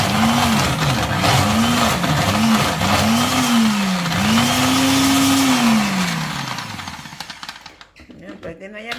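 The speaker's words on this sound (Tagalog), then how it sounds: "Wala kasing kuskusan, kaya yung blender ang ginamit na namin, guys." Household blender whirring loudly as it crushes ice for Filipino halo-halo, the motor pitch rising and falling in sweeping surges for several seconds before winding down to near silence.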